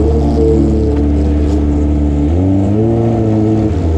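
Kawasaki ZX25R motorcycle fitted with a loud SC Project exhaust on a village road, its high-pitched inline-four engine droning loud and close, holding steady before dropping and climbing again as revs shift.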